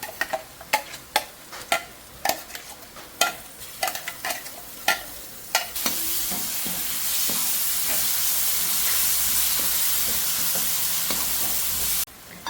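Ginger and garlic paste hits hot oil with onions in a pan for a coconut-milk chicken curry: a string of sharp spoon scrapes and knocks, then a loud, steady sizzle that hisses on for several seconds.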